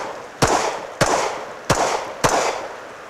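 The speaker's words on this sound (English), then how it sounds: "I draw my pistol out, I'm driving out, my sights are aligned. If I want, I can take an initial shot from here." Four loud, sharp Walther PDP pistol shots crack out at roughly even intervals while the shooter advances, each followed by a short echoing decay outdoors.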